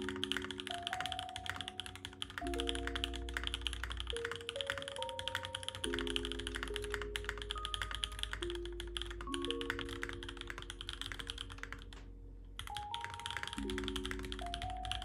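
Typing on a Cablecar Designs Cypher r4 mechanical keyboard, a steady run of close key clacks and thocks with a background music bed playing throughout.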